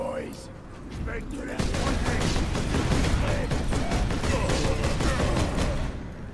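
Bolter fire from Warhammer 40,000: Space Marine rattles in a dense, continuous stream of heavy rapid shots for several seconds, loud and steady with mechanical clatter.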